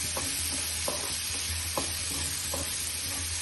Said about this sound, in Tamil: இதை ஒரு 2-3 மினிட்ஸ் நல்லா வதக்கி விட்டுடணும் கேரட் அண்ட் பீன்ஸை.